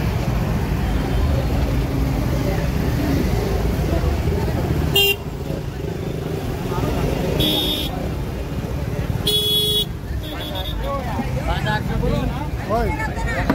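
Busy roadside traffic jam beside a weekly fish market in Malvan, with steady engine rumble and crowd noise, and several short car or motorcycle horn toots cutting through at intervals while people talk nearby.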